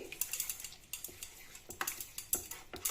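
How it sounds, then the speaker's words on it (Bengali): A spoon scrapes and taps rhythmically against a pan while strained sour curd is stirred in off the heat, a steady run of quick, light clicks and scrapes close by with no talking. "টু টেবিল স্পুনের মতন টক দই আমি দিচ্ছি এটাকে আমি মেশাতে শুরু করছি"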